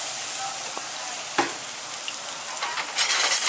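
Eggplant searing in a hot pan, a steady close-up sizzle and crackle of frying with occasional sharper pops and a brief stirring scrape.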